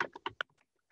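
Fast typing on a computer keyboard while Java code is written: a short burst of about five sharp clicks in quick succession, then a few fainter taps trailing off, close and quiet.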